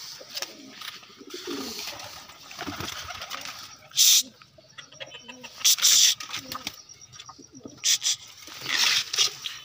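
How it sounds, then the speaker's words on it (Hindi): Caged pigeons coo softly nearby amid wing flutters and light rustling, with someone speaking over them and a few sharp louder bursts. "तो कुछ कबूतर अंदर हैं, कुछ कबूतर बाहर हैं"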